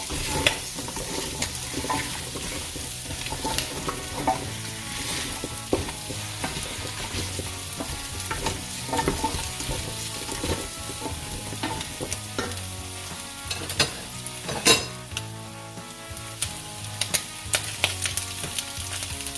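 Pumpkin pieces for a paneer and pumpkin korma curry sizzle and fry steadily in a pan, with repeated stirring scrapes and clinks running throughout, close and fairly loud with no talking.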